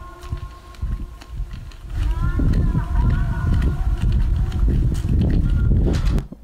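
Unprocessed phone field recording in the mountains: crunching footsteps and thumps up close with wind blowing across the microphone, rough and uneven, a few faint tonal squeaks in the middle.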